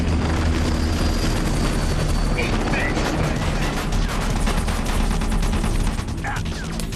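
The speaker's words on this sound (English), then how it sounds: "we're fighting a helicopter, so they're finally making, like, plane noises" A helicopter roars in a boss fight in Metal Gear Solid: The Twin Snakes. The dense, loud rotor noise runs unbroken throughout, with bursts of gunfire and mechanical clatter mixed in.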